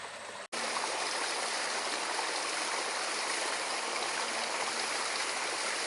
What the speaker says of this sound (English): that's a healthy flow of water going down there